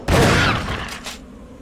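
Shotgun blast in Resident Evil HD Remastered, a single loud burst that rings out and decays over about a second, with a fainter follow-up crack near the end.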